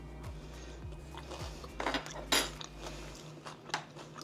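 Spoons clinking and scraping while moving a bite of chicken salad from one spoon to another, a few light metallic taps and clinks close by in a quiet room, no talk.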